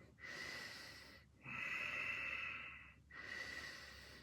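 Slow, deep yoga breathing held in a twisted lunge: three long airy breaths, each swelling and fading with short pauses between, close and clear in a quiet room with no talking.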